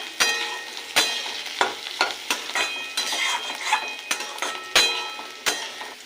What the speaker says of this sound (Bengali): তেলের উপর গোটা পোস্তটা দেবো।